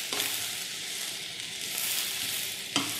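Vegetables sauté in a hot pan for sloppy joes, a steady crackling sizzle with scraping stirs, a sharper utensil knock near the end, no talking.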